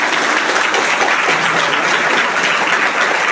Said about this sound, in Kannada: ಚಪ್ಪಾಳೆ ಹೊಡಿಬೇಕಿತ್ತು